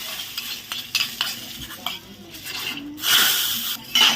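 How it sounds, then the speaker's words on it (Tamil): Food frying on a stove while being stirred, with a faint sizzle under repeated scraping and clinking of a utensil against the pan, closing on a louder hiss and stir. "நல்லா பொரிச்சுக்கலாம்."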